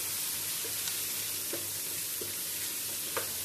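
Black pepper powder being stirred into beef masala frying in a pan, with a steady low sizzle and a few soft, scattered scrapes and clicks of the spoon against the pan.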